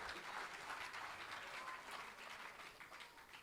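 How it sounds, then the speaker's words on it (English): Applause from an audience at an award ceremony, a dense, sustained wash of clapping heard from a distance, fading slightly toward the end. "Please, let's give him another round of applause."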